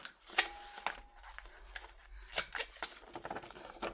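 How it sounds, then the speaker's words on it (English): A cutting tool rounds the corners of paper for a card-making project, making a series of small crisp snips and clicks, quiet and close, with pauses between cuts. "I do want to take a moment and round the corners on these real quick."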